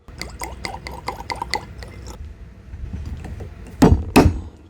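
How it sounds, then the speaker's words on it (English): Bourbon, Old Crow, glugs from a bottle into a glass in a quick run of close gurgling pulses, followed by a couple of louder knocks as the bottle or glass is set down. "let's pour this bottle up and see how good it is"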